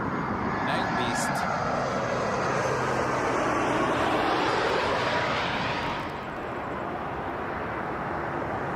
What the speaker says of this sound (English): Here comes a beast, 777-200 to Delhi.